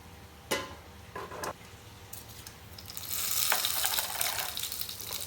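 Ghee sizzling in a hot pan for an Assamese dal tadka: a soft, steady hiss with a few faint clinks, swelling into a louder, bright crackling fry partway through.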